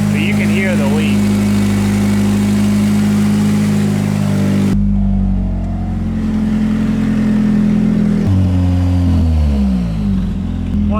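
A Nissan 180SX engine idling with an air leak and a compressor that isn't boosting: a loud, steady low drone with a hissing edge, which shifts tone partway through and changes pitch again near the end.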